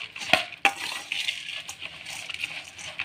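Bhel puri ingredients, including crisp pan-fried puffed items, being stirred and mixed with a spoon in a bowl at home, with two sharp clinks near the start, then a steady soft scraping and rustling.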